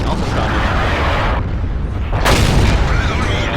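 A single heavy cannon boom from an FCM 50t tank in a video game, a loud deep blast set against a steady rumbling background and followed by a short ringing tail.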